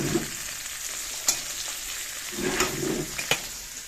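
Sliced potatoes fry quietly in a pan with a soft, even sizzle, broken by a few light stirring taps and scrapes; no one talks.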